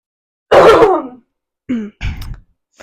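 A single harsh cough or throat-clearing burst, loud and close, followed by two short vocal grunts after a brief pause.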